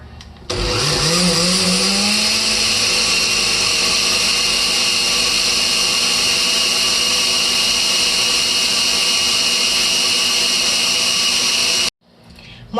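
A blender whirs steadily with a lemon inside, spinning up with a rising pitch and then holding a loud, even motor drone for about eleven seconds before cutting off abruptly.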